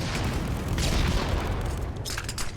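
Frag grenades going off in a competitive VR shooter match, a run of heavy rumbling booms and blasts layered together, loud and continuous, with sharper crackling bursts toward the end.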